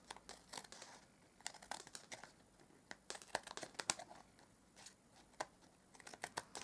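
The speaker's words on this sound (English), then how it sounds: "I'm going to grab my scissors and we're going to trim the edges" Scissors trimming the edges of paper strips for a card: quiet, quick crisp snips and rustles in irregular bursts, close and faint.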